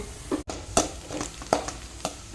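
Sharp sizzling bursts crackle as onion tempering hits hot oil, several quick spitting pops spaced apart, close and fairly loud.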